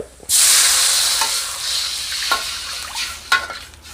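Plain water hits a hot pan of fried aromatics for a red pork gravy, bursting into a loud hissing sizzle that gradually softens, with a few light scrapes and clinks; no voices.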